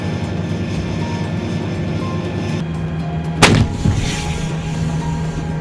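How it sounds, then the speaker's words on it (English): An M109 Paladin self-propelled gun fires a 155mm shell, one loud, sharp boom with a short rumbling echo over a steady low mechanical drone, with no talking. "It can shoot a 155mm shell up to 20 miles using rocket-assisted projectiles."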